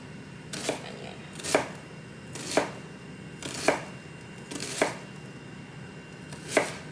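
A knife chops a yellow onion on a board for kimchi stew, six crisp separate thuds spaced about a second apart, near and clear with no voices.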